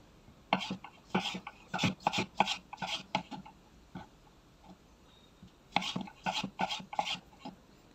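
A knife slicing food on a board in two bursts of quick, close cuts with a short pause between them, under quiet background hum.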